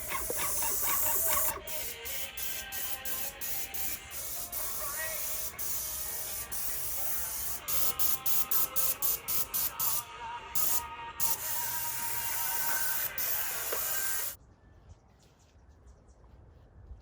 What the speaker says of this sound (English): The front side, the east side, and the west side of the house is finished with spray painting.